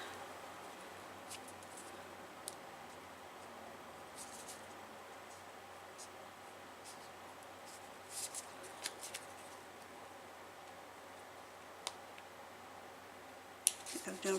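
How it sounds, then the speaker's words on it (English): Scissors cut through thin vinyl for an in-the-hoop embroidered ID holder, giving faint, sparse snips and soft clicks at irregular intervals against a quiet room background. "my scissors are gliding through it"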